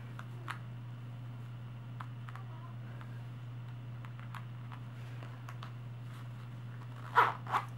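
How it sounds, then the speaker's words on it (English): A metal zipper on a SheFit sports bra is done up: one short, quick zip near the end, close and fairly quiet against a low steady hum. "and then there is a zipper"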